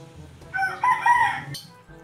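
A single rooster crows close by on a farm in Ilocos after a typhoon, one rising and falling cock-a-doodle-doo lasting about a second, heard alone.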